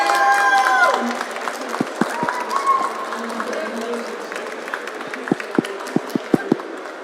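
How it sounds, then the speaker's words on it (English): Audience applause and cheering after a performance at a semifinal event, with scattered sharp claps, some whoops and a voice talking over the start, then tapering into a few isolated claps. "Can we get a huge round of applause for Vang?"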